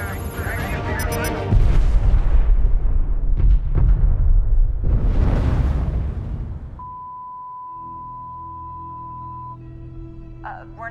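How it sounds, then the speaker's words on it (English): A hospital explosion from the 12 Monkeys TV series booms and rumbles loudly for several seconds, with a second swelling blast. It then gives way to a quieter steady electronic tone and low background hum. "There's been an explosion."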